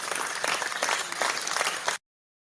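Burst of clapping from a group closing out an online session, dense and steady for about two seconds before cutting off abruptly.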